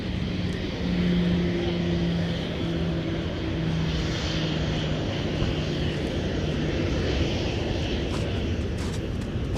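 Airliner arriving at Minneapolis–St. Paul airport, a broad steady jet roar rumbling at moderate distance throughout, with a faint low hum beneath.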